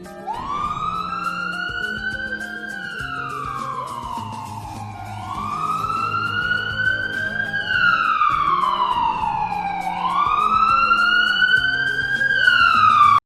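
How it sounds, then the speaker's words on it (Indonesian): An ambulance siren sweeps up and down in a repeating wail that grows steadily louder as the vehicle passes close by, with a low engine rumble beneath it. "sebuah mobil ambulans bergerak ke kiri dengan kelajuan tertentu sambil membunyikan klakson atau sirenenya"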